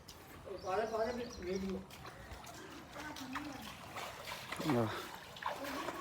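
Flood water trickles and splashes steadily as it flows into a house in a village near Ajnala, while people talk close by over it.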